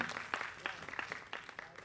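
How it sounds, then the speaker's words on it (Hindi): An audience at the Ravindra Manch theatre in Jaipur applauds musicians who play Carnatic classical music at an anniversary event. Scattered, fairly faint claps with distinct individual hand strikes come from a small crowd at a distance. "जोरदार तालियां एक बार म्यूजिशियंस के लिए"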